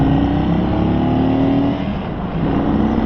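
A 2022 Indian Chief motorcycle engine revs and rumbles with a deep, loud, steady drone that dips briefly before picking back up, heard close with no talking.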